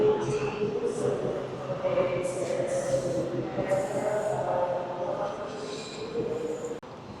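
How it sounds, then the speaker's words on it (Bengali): Train pulling into a station on the London to Glasgow route, a low rolling rumble with a faint rising whine and brief squeals, moderately close, with background chatter throughout and a sharp clunk near the end. "আমাদের ট্রেন ঢুকছে বা স্টেশনে।"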